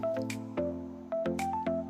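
Soft chapati-like dough for madatha kaja being kneaded by hand, with quiet rhythmic squishes and slaps repeating about every half second against a faint background hum.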